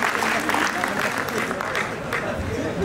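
Audience applause at a cultural fest for a civil services foundation course batch in Jaipur, a steady wash of clapping from a large crowd that holds for the full length without a break.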